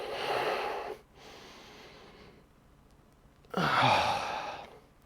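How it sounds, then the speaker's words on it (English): Slow, deep breaths during a yoga session: a breathy exhale fading out, a quiet pause, then a loud close inhalation drawn through the nose and mouth. "Breathing in deeply."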